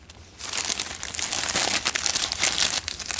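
A thin plastic bag like a printed garbage bag crinkles and rustles up close, a continuous crackling handling sound of moderate loudness with no talk over it.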